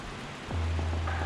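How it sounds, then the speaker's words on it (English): Steady rain falls outdoors in Barbados as a constant broad hiss close by, joined midway by a low steady hum, with no talk. "I'm not sure if you guys can hear that, but that's rain."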